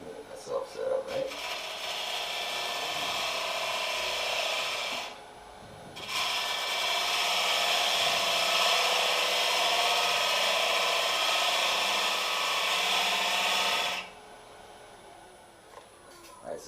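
A wood-turning gouge slices across the end grain of a spinning live-edge platter on a lathe, giving a loud continuous rasping hiss that breaks off briefly partway through, then resumes before stopping.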